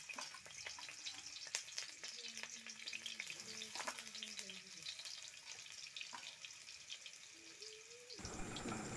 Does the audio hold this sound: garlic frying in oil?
yes